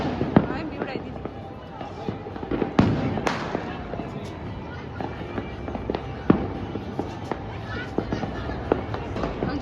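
Fireworks and firecrackers going off across Vadodara on Uttarayan night: scattered sharp cracks and pops, some near and loud, others distant, crackle continuously under people talking nearby.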